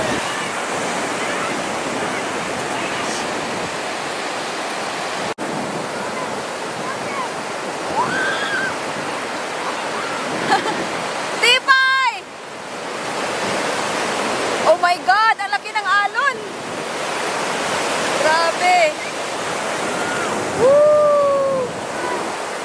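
Ocean surf breaking at a windy beach in America, a broad steady wash of waves and gusting wind throughout, with occasional whistle-like tones and brief voices over it.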